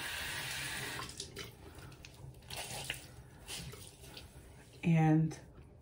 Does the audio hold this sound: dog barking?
no